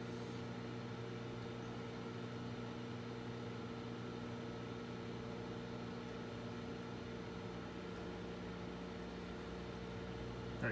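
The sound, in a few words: microwave oven running, heating gummy mixture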